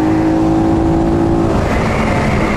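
A Flash 150 motorcycle engine held at a steady, loud drone that never climbs in pitch, as though the revs are stuck, with a constant whirring roar throughout and no voices.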